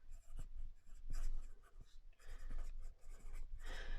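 A pen scratches out a handwritten list in a junk journal, with steady strokes broken by short pauses between words and lines, close and clear.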